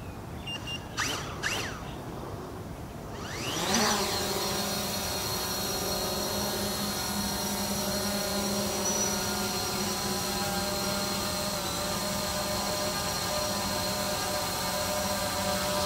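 Fimi X8 SE drone doing an auto takeoff: a few faint clicks and beeps, then motors spool up sharply and settle into a steady, loud multi-tone propeller whine as it hovers nearby.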